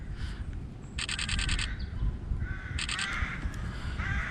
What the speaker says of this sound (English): just some crows up in the tree